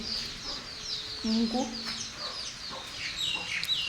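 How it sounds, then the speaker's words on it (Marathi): Chickens cluck and murmur softly nearby inside a village shed on a rainy day, with a few louder squawks and faint higher calls in the background; a voice speaks briefly. "बाहेर कोंबड्या शेडमध्येच इकडे"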